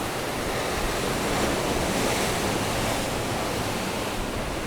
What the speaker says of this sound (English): As you can see, the sea is still quite angry